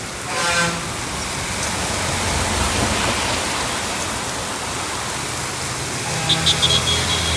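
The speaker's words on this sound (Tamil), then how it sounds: "இந்தமாதிரி நைட் டைமில் வந்து மழை பெஞ்சிட்டு இருக்குங்க" Steady rain falls at night beside a highway where a truck is parked, a dense continuous hiss with a brief horn-like toot early and faint passing traffic underneath.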